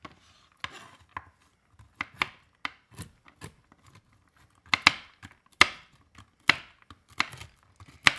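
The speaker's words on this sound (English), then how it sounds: "we're just going to kind of rough chop them in different size pieces" English walnuts are rough chopped with a knife on a board, a quiet series of sharp, irregular taps and crunches, some in quick bursts, with near silence between strokes.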